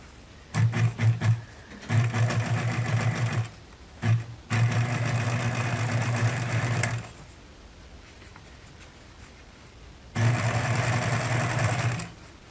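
A sewing machine stitches stiff fabric for hospital masks in several bursts of steady mechanical whirring, each a few seconds long, with short start-stop taps and quiet pauses between runs.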